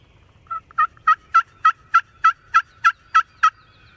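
Wild turkeys in a Tennessee field gobble in a rhythmic run of about ten evenly spaced, clear calls, moderately near against a quiet outdoor background.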